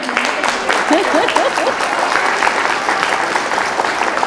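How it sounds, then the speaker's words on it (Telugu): An audience claps together at a Friendship Day gathering, producing a steady, dense wash of applause that holds at an even level for several seconds, with voices mixed in. "ఒకసారి చప్పట్లు కొట్టరా ప్లీజ్"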